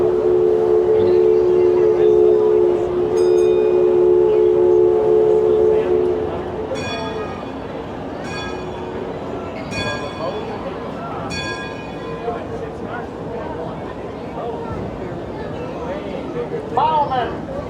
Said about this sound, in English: They're ringing the bell.